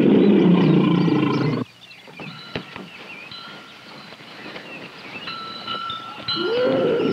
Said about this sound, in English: From the sound of those struggles, Tom and the trappers must really be having a difficult time with that tiger.